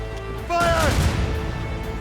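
Cannon and gunfire in a naval battle from the game Assassin's Creed Rogue: a loud broadband blast about half a second in, then a rumbling, dense volley that sustains at a steady level, mixed with a whistling tone.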